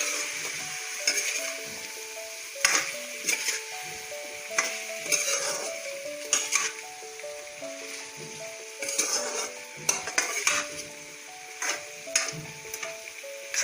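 Papaya frying in a pan with kola khar (banana alkali) sizzles softly as a spatula stirs and scrapes in irregular clinking strokes, with faint metallic ticks and a quieter frying hiss between them, no speech.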